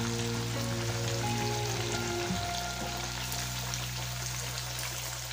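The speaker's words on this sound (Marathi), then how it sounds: "मध्यम गॅसवर हे वडे आपण तळून घेणार आहोत." Sabudana vadas deep-fry in oil over a medium flame with a steady, even sizzle and crackle. Faint tonal hums sit in the background, and no one speaks.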